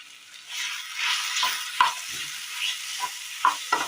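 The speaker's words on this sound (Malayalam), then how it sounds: "ഇനി ഇത് നന്നായി ഇളക്കി വേവിച്ചൊന്ന് ഉലർത്തിയെടുക്കണം" Raw jackfruit stirred and roasted in oil in a pan, a soft close sizzle broken by several sharp scraping clacks of a spoon against the pan.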